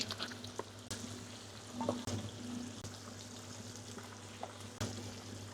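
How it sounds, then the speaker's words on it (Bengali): Pieces of pangas and boal fish frying in a pan of oil, a soft steady crackle with occasional clinks and stirring noises, no voices. "এভাবে আমি সবগুলো মাছ ফ্রাই করে নিচ্ছি"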